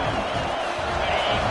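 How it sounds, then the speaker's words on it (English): Football stadium crowd at a Notre Dame vs FSU game, a dense, loud wall of cheering and roaring that holds steady throughout. "This crowd bringing the energy and noise early."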